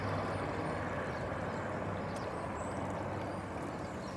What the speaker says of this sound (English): you also may be able to hear traffic